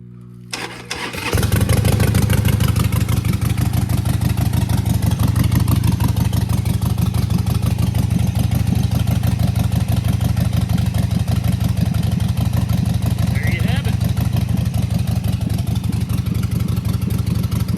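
Harley-Davidson Sportster motorcycle engine starting and then running loud and steady at idle, a close, deep, continuous throbbing rumble after a short cranking start.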